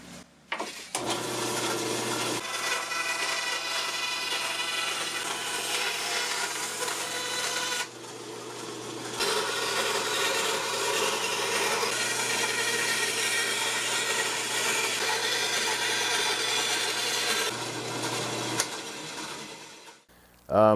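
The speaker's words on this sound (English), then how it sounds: "I'm gonna get over to the bandsaw and get these cut out" A bandsaw running steadily while cutting a rosewood Telecaster fretboard, a continuous close mechanical whir with a short break midway, then the blade coming to a stop.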